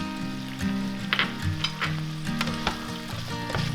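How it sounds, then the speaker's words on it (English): Chopped parsley gets stirred into a sizzling sauce with shrimp in a pan. The loud, close frying hiss carries clinking and scraping utensil strokes, and nobody talks. "And we're gonna add about 1/4 cup of chopped parsley. I'm gonna stir that around."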